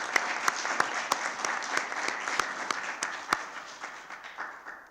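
Applause for newly welcomed municipal council members Isabelle and Jacques Briffaut at a town council meeting, a dense steady round of clapping from the room with sharp individual claps standing out, running the whole time without talk.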